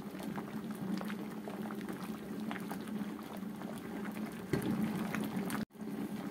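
Liquid bubbles at a steady rolling boil in a pot on a stove, a constant low burble with a brief clatter and a momentary cutoff near the end.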